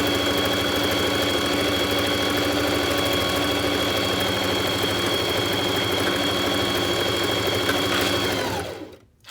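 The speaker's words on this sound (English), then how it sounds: "I'm going to do some back stitching" A sewing machine back stitching on a quilted jacket runs in a steady, close, continuous whir with a fast mechanical rhythm, then stops abruptly near the end.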